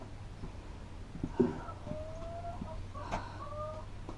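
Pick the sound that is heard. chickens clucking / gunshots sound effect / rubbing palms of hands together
chickens clucking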